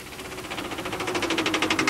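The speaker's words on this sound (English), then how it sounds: "it looks like the engine's seizing up" A race car engine seizing up on the track knocks in a rapid, regular metallic rhythm over a droning hum, growing slightly louder and more pronounced as it goes.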